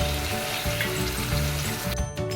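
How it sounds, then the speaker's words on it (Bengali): Ground poppy seed paste fries in a pan with a loud, continuous sizzle and bubbling crackle, close up and steady throughout, briefly dipping near the end; no talking. "তারপর দিয়ে দিচ্ছি বেটে রাখা পোস্ত"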